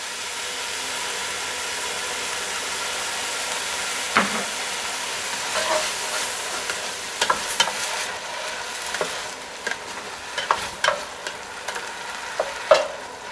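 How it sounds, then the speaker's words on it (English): Prawns simmer in a pan with canned tomatoes and chilli, a steady close sizzle and bubbling broken by repeated clinks and scrapes of stirring. "Once again, we just let them simmer away for a couple of minutes"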